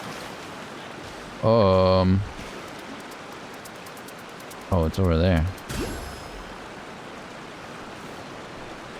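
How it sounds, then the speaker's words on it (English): Steady rushing water from a waterfall in Genshin Impact, a constant broad hiss underneath, while a person talks in short bursts over it. "Is this a waterfall?"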